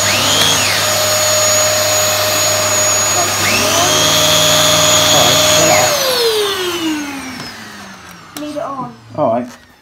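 A Dyson DC23 Motorhead vacuum cleaner runs loud and close with a steady high motor whine, then powers down with a falling pitch, and a few knocks follow at the end.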